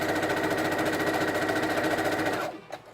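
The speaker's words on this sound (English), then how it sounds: "you're going to sew these together" Sewing machine stitching coat seams together, a loud fast rhythmic chatter running steadily close by before it stops with a final clunk.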